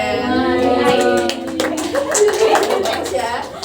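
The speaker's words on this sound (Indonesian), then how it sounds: "Tepuk tangan buat kelompok 1." Classmates clap for a group presentation in a classroom. A short burst of hand claps rises amid ongoing talk and light laughter, close and fairly loud.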